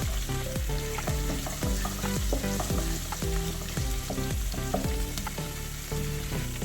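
Ginger and garlic sautéing in a pan for a vegetable kurma, with a steady sizzle under loud, rhythmic background music that carries through the whole stretch.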